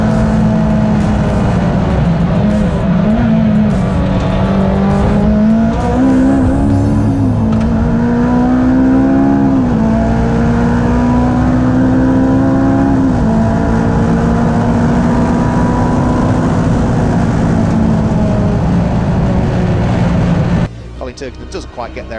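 Ferrari F430 and other slick-tyred race cars lapping Snetterton circuit, engines droning and rising in pitch through gear changes, loud and continuous with a commentator talking over them.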